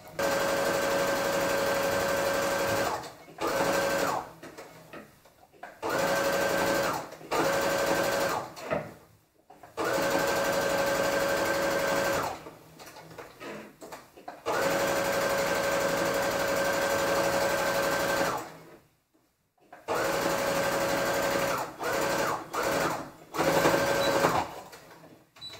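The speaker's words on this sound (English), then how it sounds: "go ahead and sew down 5/8 of an inch of a seam" A home sewing machine steadily stitches a 5/8-inch seam on a Simplicity 1429 pattern garment, running in several stop-start bursts of even, close whirring separated by short pauses.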